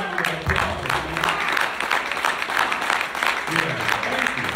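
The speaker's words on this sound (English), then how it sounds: "Let's give our brother a round of applause." A church-style audience applauds a brother after a minister's address, a continuous wash of clapping in pulsing waves with voices calling out over it, moderately loud and close.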